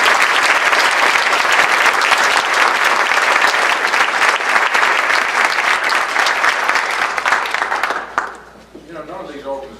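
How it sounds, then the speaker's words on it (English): An audience at a campus successes forum gives loud, sustained applause for about eight seconds, a dense wash of clapping that then drops away abruptly, leaving a speaking voice alone at the end. "give Neil a round of applause"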